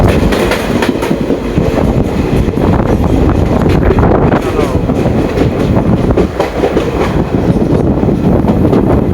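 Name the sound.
train passing by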